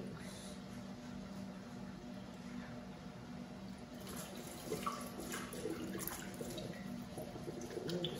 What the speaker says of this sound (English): Wash and blanch the legs.